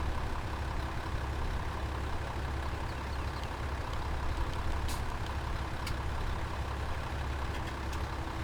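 Truck engine and trailer noises in Farming Simulator 17 with a trailer sounds mod, a quiet steady low drone with a few sharp clanks and hisses of air brakes, no talk.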